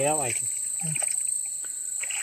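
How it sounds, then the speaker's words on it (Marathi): Insect chirring drones steadily at night beside a river, a continuous high buzz that runs through the whole stretch, with brief low voice-like sounds near the start. "हा बघा परत एकदा टोळ आला आहे आणि गेला पण"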